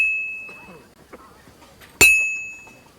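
A church bell tolls once in Kingdom Come Deliverance 2: a single loud, bright strike rings out and slowly decays, following a stretch of quieter background ambience.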